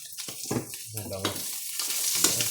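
Onion and ginger sautéing in a pan for a ginisang malunggay with squash, giving soft sizzling and stirring scrapes in short bursts, with someone talking over it.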